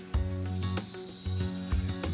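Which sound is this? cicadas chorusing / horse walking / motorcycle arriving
cicadas chorusing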